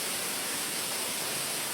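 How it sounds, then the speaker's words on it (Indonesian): Natural waterfall at Liang Pinapan cave, a steady broadband rush of falling water, loud and continuous with no other sounds. "Dan air terjunnya masih sangat alami"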